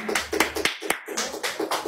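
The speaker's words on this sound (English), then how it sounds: "Let's give it a round of applause." A small group gives a round of applause in a few rhythmic bursts of sharp, close hand claps, with a brief pause midway and no talk over them.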